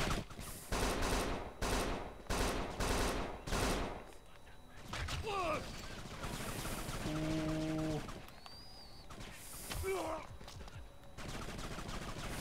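Rapid bursts of gunfire in the video game Kane & Lynch 2: Dog Days, several loud volleys in quick succession, then sparser game sounds as voices talk over the action.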